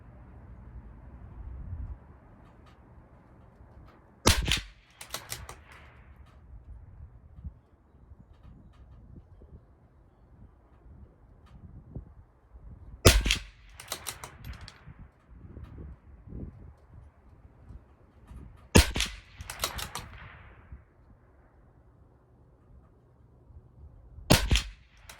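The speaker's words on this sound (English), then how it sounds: "Those are 10 shots." A CZ 457 rifle firing SK High Velocity Match ammunition at a 50-yard range, sharp isolated cracks spaced several seconds apart over quiet outdoor background with faint wind and birds.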